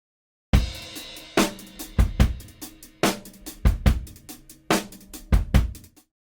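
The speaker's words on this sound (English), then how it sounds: "I have an acoustic drum loop loaded up that we used in a previous video that just sounds like this" An acoustic drum loop played back from a Kontakt sampler, with punchy kick and snare hits in a steady groove and busy hi-hats between them, alone and with no talk.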